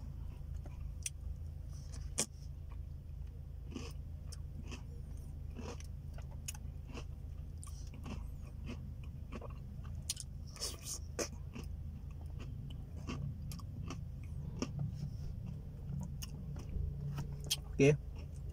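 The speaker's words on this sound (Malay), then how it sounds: "bila makan dia rangup gigit boleh kunyah-kunyah kan" Crunchy butterscotch cookie pieces from a McDonald's McFlurry being chewed close up, giving repeated soft crunches and bites over a steady low background, with a louder crunch near the end.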